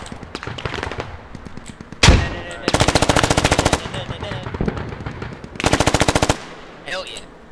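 Automatic gunfire in the tactical shooter game Squad: a sharp single blast, then two loud, rapid sustained bursts of machine-gun fire with scattered shots and game noise between them.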